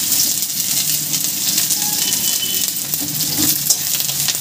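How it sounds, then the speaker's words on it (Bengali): Chopped onion frying in mustard oil for masoor dal, a constant close hiss and sizzle with faint stirring clinks, loud and unbroken by speech. "পেঁয়াজটাকে আমি এবার লাল করে ভেজে নেব।"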